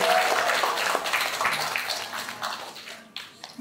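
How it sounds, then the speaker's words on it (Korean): An audience at a Daekyeung University applied music graduation concert in a live hall claps. The applause starts full and dense, then gradually thins and fades out into scattered claps. "여러분 축하의 박수 한 번씩 부탁드리도록 하겠습니다."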